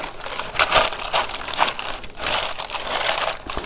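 Parchment paper crinkles and crackles in bursts as it is pressed into a loaf pan for banana bread, close and fairly loud, with short pauses between handlings and no talk.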